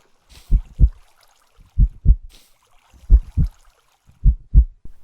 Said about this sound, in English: is that a heartbeat I hear?